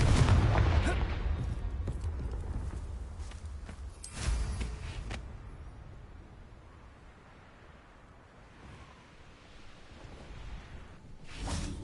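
Confringo fire spell blasts in Hogwarts Legacy, a loud burst of booming impacts at the start and a second blast a few seconds later, under light game ambience with a voice talking.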